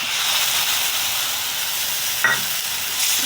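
Ground masala with chili, coriander and turmeric powder sizzles in hot oil while being sautéed for a Karaikudi brinjal curry, a steady close hiss with one brief scrape of the spoon.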